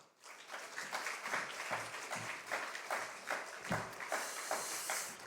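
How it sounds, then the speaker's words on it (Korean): A congregation at a university chapel service claps to welcome a pastor to the front, a steady round of applause lasting several seconds with a few louder individual claps. "우리 큰 박수로 환영 박수 부탁드리도록 하겠습니다."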